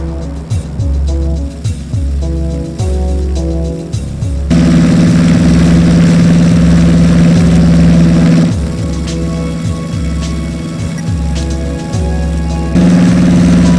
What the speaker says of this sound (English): Alright, set takeoff thrust.